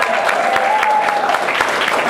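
Audience applause fills a hall after a stage performance, steady dense clapping held at an even level for a couple of seconds, with a faint sustained tone running beneath.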